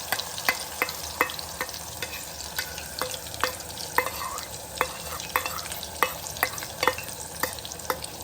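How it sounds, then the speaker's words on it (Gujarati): Ground onion fries in a hot pan, a steady sizzle broken by regular scraping and stirring clicks from a utensil, close and fairly quiet with no voices. "હવે આપણે એની અંદર ડુંગળી નાખીશું. પીસેલી ડુંગળી એડ કરીશું."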